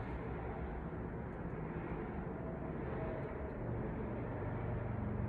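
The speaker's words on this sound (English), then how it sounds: "I can hear cars on the freeway." Steady traffic from cars on a nearby freeway, a continuous broadband rumble and hiss that stays even and unbroken throughout, with no voices.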